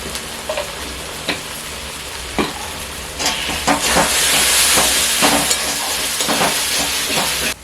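Ground turmeric, chilli and Kashmiri chilli powders fry in hot oil in a pan for a chicken and pointed gourd curry, crackling steadily with stirring scrapes, the sizzle swelling louder and denser about halfway through and holding to the end.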